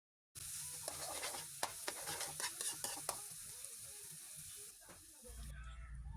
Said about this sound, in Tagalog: Igisa lang natin ito ng kaunti hanggang sa medyo mag-brown na itong ating sibuyas